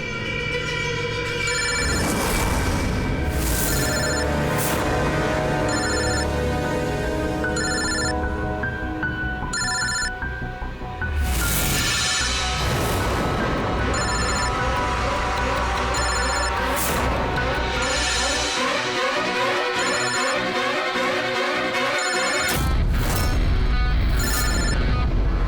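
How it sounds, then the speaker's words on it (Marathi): A telephone rings on and on unanswered in a TV crime-drama scene, a repeating electronic ringtone pattern that is loud and persistent and broken by brief pauses. "अरे कोणी फोन का उचलत नाहीये? फोन उचला."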